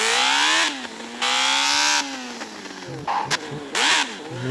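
Motorcycle engine in a video game revving hard in repeated bursts, pitch climbing and falling between throttle blips, loud and close with brief quieter gaps and shifting tones near the end.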